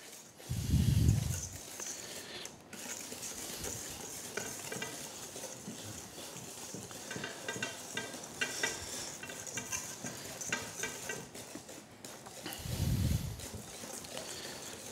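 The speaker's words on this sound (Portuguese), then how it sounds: "Se tiver umas varinhas manuais é bom, porque por causa daqueles grumozinhos que ficam, envolve suavemente a farinha." A hand whisk folds flour into pineapple cake batter, making a steady, close, wet swishing and scraping against the bowl for the whole stretch, with two soft low thumps near the start and end.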